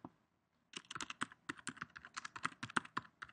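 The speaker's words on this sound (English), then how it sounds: "Just type in Harry Potter and Deathly Hallows" A search query being typed on a computer keyboard: after a short silence, a quick, steady run of close, crisp key clicks with no talk.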